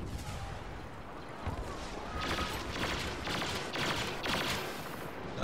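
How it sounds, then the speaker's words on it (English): Automatic blaster fire from a Star Wars Battlefront Walker Assault match on Xbox One rattles in several rapid bursts over dense battlefield noise, with sustained volleys layered through the middle and end. "Auto fire."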